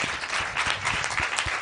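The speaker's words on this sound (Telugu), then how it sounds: "అర్థమైన వాళ్ళు మాత్రమే చప్పట్లు కొట్టండి." A church congregation claps in a brief burst of scattered, overlapping handclaps, close and fairly loud, with no talk over it.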